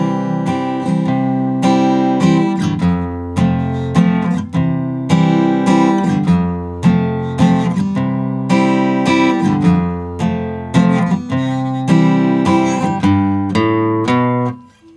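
Acoustic guitar plays the first verse line of a song, steady strummed and picked chords at a moderate country tempo. The playing is close and clear, with no voice, and it rings out to a fade at the end.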